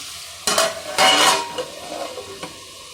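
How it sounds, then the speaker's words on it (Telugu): Onions and green chilli sauté in oil in a pan, a soft sizzle broken by two loud bursts of stirring and metal clatter, then quieter scraping and a final tap, with no talking. "ఉల్లిపాయ పచ్చిమిర్చి బాగా మగ్గరిద్దాము మూత పెట్టేసుకుందాం"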